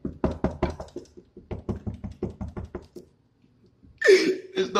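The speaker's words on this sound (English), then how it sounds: "I keep knocking." Knuckles rap repeatedly on a hotel room door in quick bursts of sharp, close knocks, then pause before a louder rustling noise follows.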